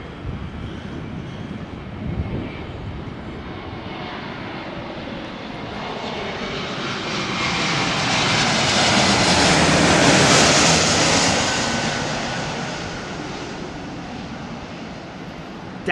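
An airliner lands in a gusty 34 mph crosswind. The broad engine roar swells as the plane draws nearer, peaks loudly, then slowly fades with steady wind noise underneath.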